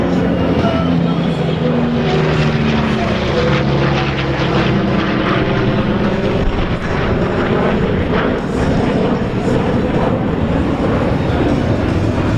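A B-29 Superfortress and a B-2 bomber pass together in a straight, level flypast at an airshow, a steady, loud roar of engines filling the air throughout.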